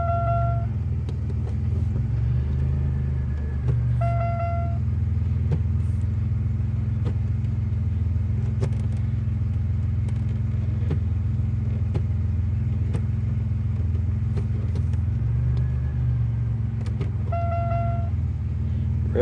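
A 1999 Chevy Malibu engine idles with a steady, deep exhaust rumble, close and continuous, with a couple of brief horn-like toots over it.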